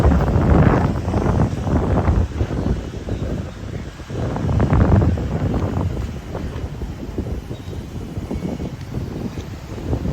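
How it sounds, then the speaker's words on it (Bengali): Wind blowing steadily on Hulhumale island in the Maldives, a loud gusting rush against the microphone that swells and eases throughout, with no voices. "বাতাস।"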